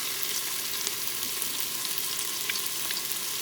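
Spices and chopped tomatoes frying in an Instant Pot for dal tadka, a steady close sizzle with soft crackles as the mixture is stirred, continuous and moderately loud, no talking.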